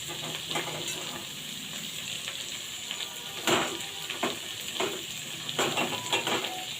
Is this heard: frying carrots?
yes